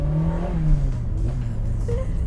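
Toyota MR2 Spyder (MR-S), a light rear-engined car fitted with a K24 VTEC engine, accelerating on a test drive, a steady engine drone with a gradually rising pitch heard from inside the cabin.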